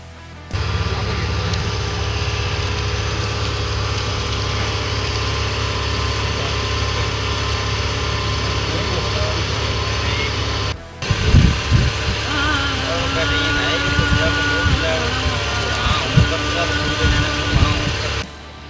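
Motorboat engine running steadily through a lake boat ride, a continuous droning hum, with a brief cut midway followed by louder low rumbling and bumps as the ride continues.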